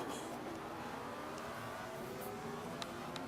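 An F1 race car engine in Forza 5 hums at a faint, steady whine under a wash of broadband noise for a few seconds, with a few light clicks.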